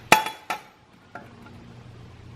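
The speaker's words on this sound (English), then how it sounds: "I just lightly tapped along that top edge as I slid the metal back and forth" Hammer lightly tapping sheet metal for a rocker panel rust repair patch over a homemade T-dolly held in a vise, three sharp metallic taps with brief ringing, the last one softer.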